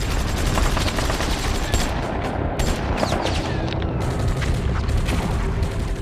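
Dense machine gun fire rattles through a loud wartime battle scene in France, continuous bursts layered over booming explosions and rumble for the whole stretch.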